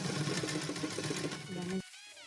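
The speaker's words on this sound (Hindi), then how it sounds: "घुमाते हुए हम इसकी सिलाई यहाँ पे बॉटम के साइड पक्की करेंगे और उसके बाद ओवरऑल सिलाई लगा लेंगे।" Sewing machine stitching the bottom hem of a salwar, rapid even mechanical whirring up close, stopping abruptly near the end.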